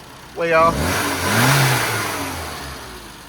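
A car on a road test drive after oil and tuning work, its engine revving up sharply then settling into a steady, fading drone, close and loud, with a voice briefly over it.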